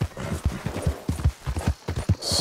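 Horse hooves gallop across open ground in Red Dead Redemption 2, a quick rhythmic beat of muffled thuds close by, steady and unaccompanied by talk.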